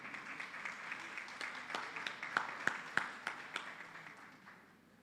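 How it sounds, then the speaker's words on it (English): An audience at the Jamaica Teachers' Association annual conference awards ceremony gives a round of applause, a quiet, distant patter of clapping with a few sharper claps near the middle before it fades out. "give her a round of applause"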